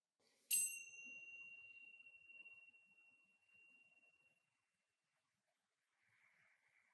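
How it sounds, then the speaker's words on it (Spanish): A single meditation bell is struck to close a mindfulness practice, a sharp strike followed by a long, clear ringing tone that slowly fades in a quiet room, with a faint soft chime near the end. "cuando suene la campana, puedes moverte con suavidad"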